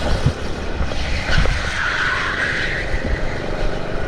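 Rental kart racing on a track: engines buzz loudly close by, with a sharp jolt of contact from another kart and brief tyre scrub as the kart nearly spins.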